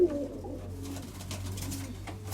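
A pigeon coos softly in low, throaty repeated notes against a faint humming background.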